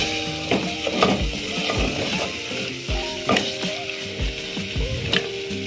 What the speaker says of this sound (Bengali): শেষমেশ আমরা দেবো এর মধ্যে চিকেন, দিয়ে আমরা ভালো করে আবার এটিকে ভালো করে কষিয়ে নেব।